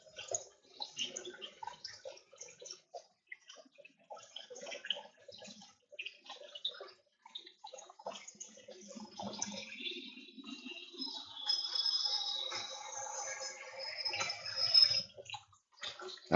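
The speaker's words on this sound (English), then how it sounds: "Got to rinse out the cabbage." Tap water runs and splashes while pre-cut cabbage is rinsed, faint and uneven at first, then a steadier hissing stream that builds toward the end.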